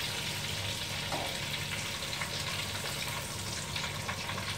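Eggplant pieces frying in hot oil, giving a steady, fairly quiet, continuous sizzle with no voices.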